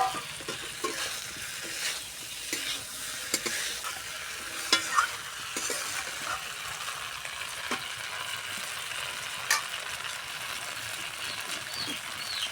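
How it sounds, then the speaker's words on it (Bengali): Fried potatoes are stirred into a chicken feet curry with new potatoes in a pot, giving a steady low simmer and sizzle with occasional scrapes and clinks of the spoon against the pan. "দেখো ভাজা আলুগুলো দিয়ে দেব"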